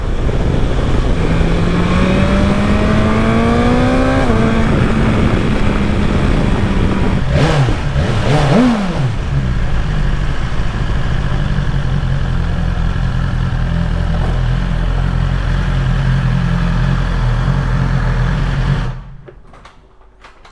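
An engine revs up with a rising whine, shifts and climbs again, then holds a steady loud drone before cutting off abruptly near the end.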